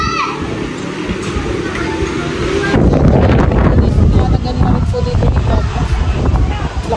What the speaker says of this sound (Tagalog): Lakas po ng hangin, pahampas-hampas po yung trapal.